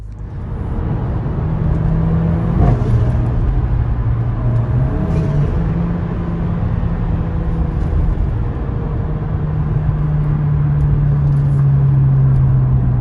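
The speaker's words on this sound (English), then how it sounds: "Sounds pretty good already, but it's that flutter." A Mercedes A45 AMG engine idles and revs with a steady loud droning rumble close by, and a blow-off valve releases at intervals with a brief fluttering hiss.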